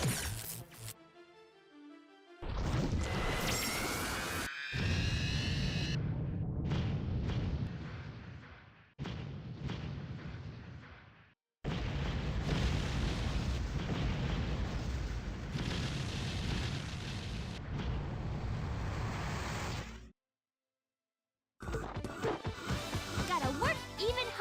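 A thunder spell unleashed in a Grandia II battle roars as long, heavy, rumbling blasts, loud and dense, broken by short silent gaps and mixed with game music.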